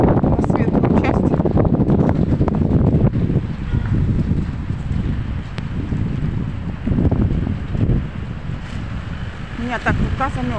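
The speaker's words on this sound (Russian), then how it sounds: "Ветер будет." Blustery wind roars and buffets the microphone continuously, with muffled voices faintly audible beneath the rumble.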